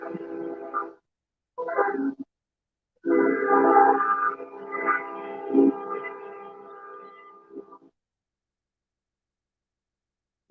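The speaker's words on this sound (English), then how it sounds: "Sorry about the train. I'm in the middle of town." A train passing through the middle of a town near a fishing pond sounds loud, harmonic horn blasts: two short bursts, then one long sustained blast that fades out, with no talking.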